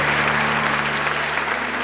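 A church congregation claps together in a dense, continuous burst of applause, steady and fairly close, with a low hum sustained beneath it.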